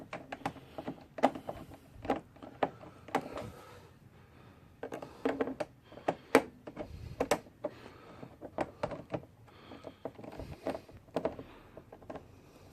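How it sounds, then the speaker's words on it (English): Irregular clicks and creaks as a screw is driven into a GY6 scooter body panel, in short close bursts with brief pauses, with no talking. "let me keep on trying to screw him in and see if he actually hits the thread"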